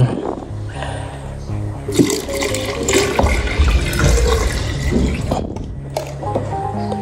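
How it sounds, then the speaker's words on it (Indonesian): One to two liters of water are poured into a thick homemade laundry soap mixture, splashing and gurgling steadily for several seconds with a few louder sloshes. "Ini sepertinya kita tambah dulu air 1 atau 2 liter. Kita tambahkan air."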